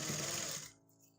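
A sewing machine stitches along a trouser edge with a fast whirring buzz that stops abruptly after under a second, leaving faint hum.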